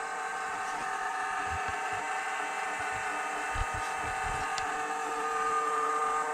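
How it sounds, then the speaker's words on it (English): A 1971 Chevrolet Corvette door buzzer drones continuously, a steady tonal hum at low to moderate level that runs unbroken with no talk over it. "First, obviously the door buzzer works."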